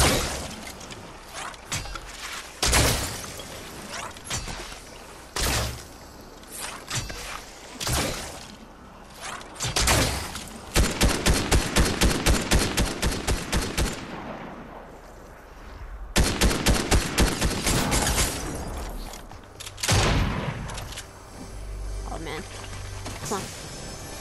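Submachine gun fire in Fortnite, rapid bursts of gunshots in several rattling volleys with single shots between, over game sounds while a player talks excitedly.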